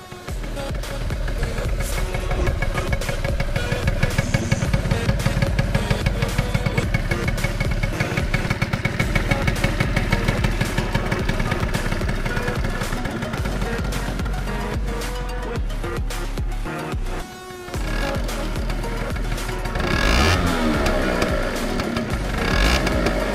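An old motorcycle, restarted after ten years without running, revs and idles loudly and continuously for over twenty seconds, with a rough rattling engine note, throttle swells and a brief dip before revving again.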